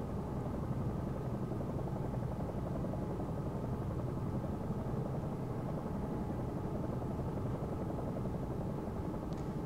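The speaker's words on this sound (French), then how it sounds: "on va essayer de virer un peu, voir si l'hélicoptère vire" Simulated helicopter in the X-Plane flight simulator banking into a turn, a steady dense rotor and engine drone holding at even loudness throughout, with no talk over it.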